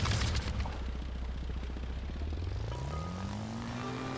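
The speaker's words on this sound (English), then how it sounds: "Throttle up. Let's just boost into the air." A propeller plane's engine throttles up for takeoff in the video game The Brew Barons, a steady drone whose pitch climbs smoothly over the last seconds, loud and alone with no voices.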